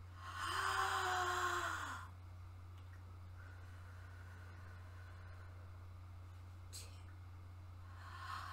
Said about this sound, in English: Let's take 3 deep breaths for the plants.